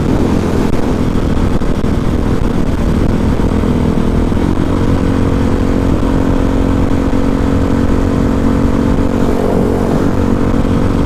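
A supermoto motorcycle engine roars continuously and loudly, close up, as it is held high toward the rev limiter with a steady buzzing drone and no talking.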